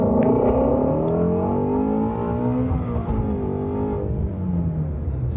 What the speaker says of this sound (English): let's listen to the car go through the rev range through first gear